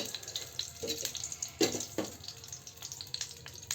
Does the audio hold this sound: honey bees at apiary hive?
no